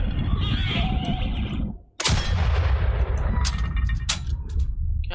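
Gunfire and artillery boom from the World War I video game Valiant Hearts. Loud, dense blasts and rattling shots fill the clip, with a brief dip before another sharp burst and more scattered cracks.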